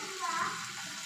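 Prawns fry in hot oil with curry leaves on a tawa, a soft steady sizzle with a slight swell, close and fairly quiet.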